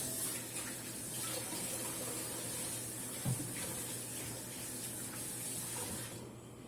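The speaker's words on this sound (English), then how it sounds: "Now I'm going to wash my hands real quick" Tap water runs steadily into a sink while hands are washed beneath it, a soft continuous splashing stream heard fairly faintly, with a small knock partway through and the flow cutting off near the end.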